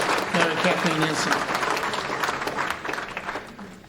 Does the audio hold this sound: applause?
yes